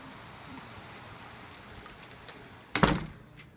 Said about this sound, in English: I love summer rain, especially when it's big and bulbous like that.